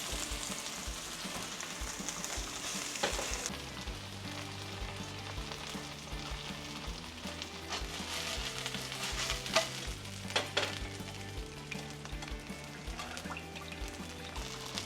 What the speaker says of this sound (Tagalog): O, ayan, mainit na yung kawali natin. Lagay na natin itong ating pipirituhin.